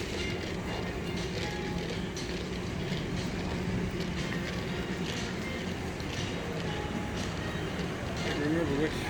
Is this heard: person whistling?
no